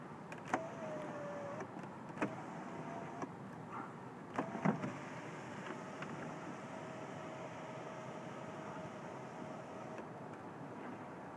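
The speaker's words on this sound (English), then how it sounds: "And our sunroof." The power sunroof of a 2008 Lexus LS 460 motors open with a soft, steady whir and a few faint clicks and bumps, quiet and close inside the cabin with no talk.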